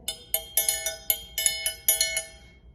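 Bright metallic triangle strikes ring out in a lively rhythmic pattern, about a dozen hits with shimmering overlapping decay, played alone and close.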